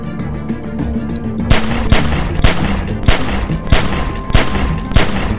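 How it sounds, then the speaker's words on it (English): Gunfire from The Walking Dead: 400 Days video game, a steady run of loud sharp shots cracking about twice a second over a rumbling background, with no talk. "Remember, don't stop shooting."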